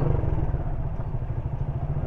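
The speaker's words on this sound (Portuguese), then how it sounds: "Ó, vem vindo uma moto aí." A motorcycle engine rumbles close by with a low, pulsing throb on a city street in the rain, steady for a couple of seconds as the bike passes.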